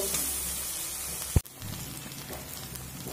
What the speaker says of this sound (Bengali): দিয়ে খুব সুন্দর করে মশলাটা কষিয়ে নেব